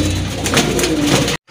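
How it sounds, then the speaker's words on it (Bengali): Large-bodied giribaz pigeons coo in soft, throaty, repeated calls close by, stopping abruptly near the end. "কবুতরগুলো কিন্তু মাশাআল্লাহ অনেক বড় সাইজের নাপটা কবুতর গিরিবাজের ভিতরে"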